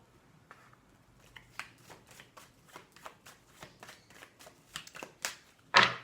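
Oracle cards are shuffled by hand in a quiet room, a rapid series of soft papery riffles and slaps at an uneven rhythm, ending in one louder close shuffle.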